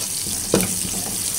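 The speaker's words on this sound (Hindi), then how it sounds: "बस इसको थोड़ा सा फ्राई करेंगे।" Ground garam masala and chopped green chilies fry in hot oil for a tadka meant for mung masoor dal: a steady close sizzle with one brief, louder spattering burst as the pan is stirred.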